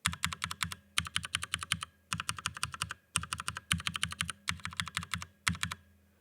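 Rapid typing on an MX Brown mechanical keyboard fitted with switch film, delivered in several quick bursts of clacky keystrokes separated by short pauses, close and clear with no voices.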